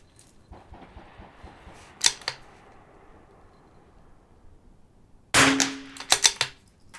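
Rimfire rifle shots ringing off steel targets at an NRL22 match course: a sharp crack near two seconds, then a louder cluster of shots and metallic clangs from about five and a half seconds, with quiet outdoor ambience between.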